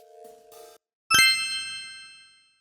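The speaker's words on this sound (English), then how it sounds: "He rung my bell." A game show answer bell rings once, a sharp bright metallic ding that rings out and decays over about a second, following a brief two-tone electronic beep, with no talk over it.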